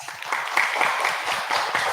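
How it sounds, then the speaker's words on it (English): Quiz competition participants at a final give themselves a short round of applause, a close, fairly loud wash of clapping with a few voices mixed in. "Can you give yourselves a big round of applause?"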